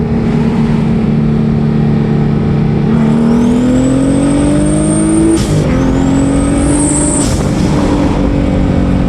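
A car engine from a Miata with a swapped VQ engine and single turbo roars steadily, the turbo whistling up in pitch, then a sharp whoosh as the pressure releases, twice in a row, loud and close.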